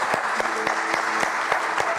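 Audience applause greets the president of the American Institute of Art at a lecture event, with distinct sharp claps in a loose rhythm over a continuous bed of noise and a faint tonal hum.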